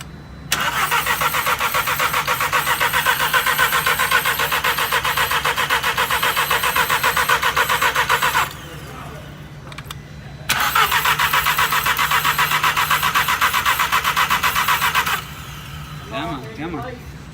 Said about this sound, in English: I'm gonna have Tom crank it over, do the honors.